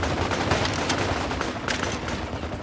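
Dense, continuous gunfire fills a battle in the Project Reality mod on the Kokan map, overlapping rifle and machine-gun bursts rattling loudly and without pause as several shooters fire together.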